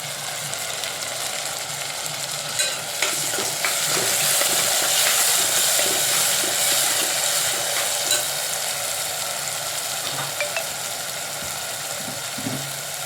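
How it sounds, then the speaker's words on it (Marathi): Tomatoes sizzling and frying in a pan for a Maharashtrian drumstick amti, steady hiss with scraping stir strokes throughout, close and continuous with no talking. "आणि आता आपण टाकूया टमाटे."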